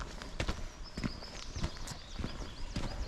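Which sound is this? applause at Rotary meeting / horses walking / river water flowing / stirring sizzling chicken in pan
horses walking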